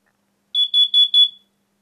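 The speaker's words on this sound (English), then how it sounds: "As you can tell, the alarm is now sounding, indicating that carbon monoxide has been detected by the alarm." A carbon monoxide alarm under test sounds four quick, shrill beeps in a steady rhythm, loud and close, with silence before and after.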